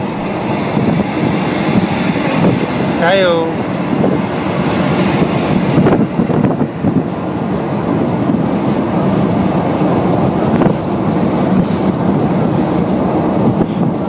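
Trains pass in the video game Army Sim, a loud, continuous rumble with rolling rail clatter that swells and fades, and a voice briefly cuts in over it.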